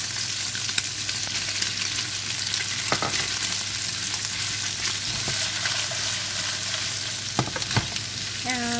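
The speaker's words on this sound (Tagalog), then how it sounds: "Lagyan natin ng konting oil. Lalagyan natin ng sibuyas." Onions sizzle and fry in a little hot oil in a pan, a steady crackling hiss running throughout with a few sharper pops and scrapes near the end, no talking.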